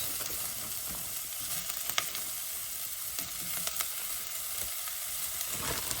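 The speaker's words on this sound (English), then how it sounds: "we're going to saute them up along with the onions" Sliced carrots and onions sauté in a pan, giving a steady soft sizzle with occasional stirring scrapes and light clicks; close but fairly quiet, with no voices.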